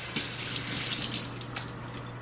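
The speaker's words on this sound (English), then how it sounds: "if you're having trouble shaping it, you can always get your hands wet" A kitchen tap running steadily as hands are wetted while shaping scone dough, a continuous close hiss of flowing water with slight splashing changes and a faint low hum beneath.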